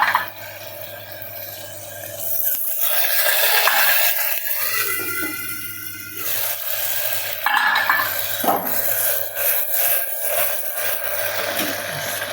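Chopped potato and peanuts frying in oil are stirred in a pan, giving irregular scraping and clattering utensil strokes against the metal over a quiet background.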